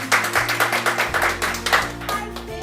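Children clap their hands in a classroom welcoming a visiting nurse, a quick uneven burst of close claps over a steady background hum, fairly loud throughout.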